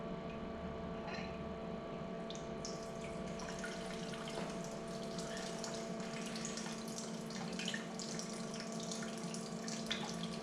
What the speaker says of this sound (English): I'm going to go ahead and start the pump at around about 10